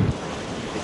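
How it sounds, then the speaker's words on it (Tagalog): Strong typhoon wind roaring on a highway during a storm surge, a dense continuous rush with heavy buffeting on the microphone, brief and loud. "napakalakas talaga ng hangin, baka tangayin tayo"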